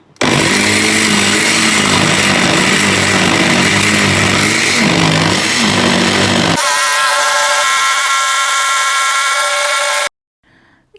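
A kitchen blender mixes a homemade smoothie, its motor whirring loud and steady for about ten seconds and shifting pitch partway through before cutting off abruptly.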